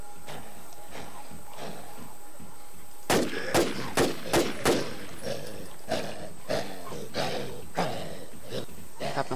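Gunfire in the zombie survival game WarZ: a tight burst of several loud, sharp shots in quick succession, then scattered single shots spaced a second or so apart over a steady background hum.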